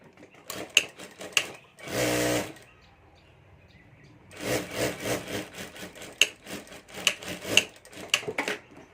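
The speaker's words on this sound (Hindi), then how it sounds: "इसी तरह ये दूसरी साइड भी हमें सिलाई कर देनी है।" A sewing machine stitches the side of a handbag in two running bursts, a rapid clattering drone close by with a short whirring spurt between them and quieter gaps.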